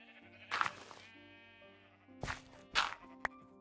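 Sheep in the Minecraft video game bleat several times: two wavering bleats come first, then a pause, then a quick cluster of bleats over a soft sustained background tone.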